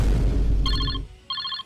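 A phone ringing in two short electronic trill bursts with a pause between, heard loud and close right after a deep rumbling thud.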